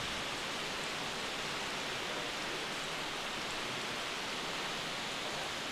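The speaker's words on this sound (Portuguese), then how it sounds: "Aí tá caindo água ali" Water falling and rain dripping indoors, heard as a steady, even hiss of spattering water that runs unbroken at moderate volume, with no voices.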